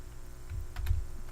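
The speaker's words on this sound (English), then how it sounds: "bad typing, my goodness" A few quick keystrokes on a computer keyboard, faint and close, a short cluster of soft clicks in a quiet room.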